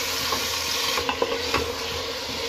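Chicken with potato, tomato and green chilli stirred in a pan, a steady broadband sizzle with a few soft spoon scrapes and clicks against the metal, close and fairly loud, no voices.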